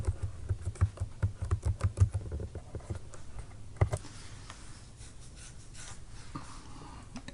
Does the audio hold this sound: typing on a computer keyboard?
yes